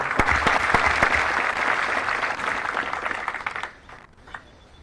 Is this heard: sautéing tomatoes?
no